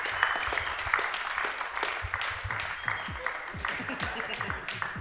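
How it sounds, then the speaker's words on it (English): Audience applause at a motorcycle race awards ceremony at Donington Park, a steady crowd of clapping that runs throughout, with some voices and sharp claps mixed in at a moderate distance. "so give John a round of applause, please"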